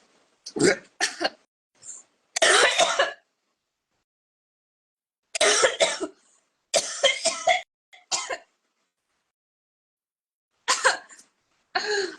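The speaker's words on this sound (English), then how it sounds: "cough it out of my mouth 20 times uncontrollably" Repeated coughing in uneven bursts of two or three hacks, separated by short silent pauses, close and fairly loud.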